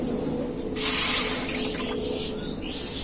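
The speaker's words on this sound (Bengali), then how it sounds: "আর এক বাটি জল দেব এক বাটি জল" A bowl of water is poured onto sugar in a pan to make syrup, producing a sudden splashing, hissing rush that fades over about a second against a low background hum.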